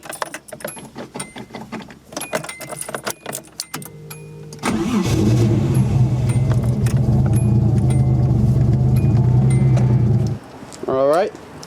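A Nissan 240SX with a 1JZ engine is started and driven into a garage: clicks and jangling keys, then the engine fires and idles loudly with a steady rumble before cutting off, with voices briefly over it.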